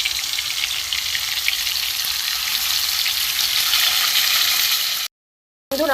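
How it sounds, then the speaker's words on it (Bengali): Pieces of katla fish fry in hot mustard oil in a pan, giving a loud, steady close-up sizzle that cuts off briefly near the end before resuming. "মাছগুলো ভেজে নেব।"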